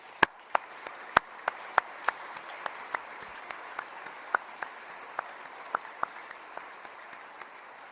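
During a Southcom leadership transition ceremony with the U.S. Secretary of Defense, the audience applauds the Holsey family. Sparse, distinct hand claps ring out one after another over faint room noise, sounding fairly distant in a large space.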